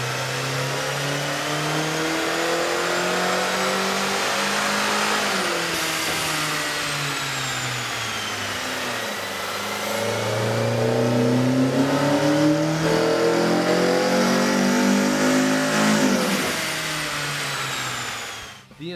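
A 2010 Kia Forte 2-liter engine with a K&N cold air intake revs on a dyno, droning loud and close as its pitch climbs in long sweeping pulls, drops back and climbs again several times.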